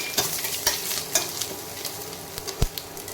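Chopped garlic frying in hot oil with mustard seeds and curry leaves in a wok, a continuous close sizzle broken by scattered spitting pops and stirring clicks.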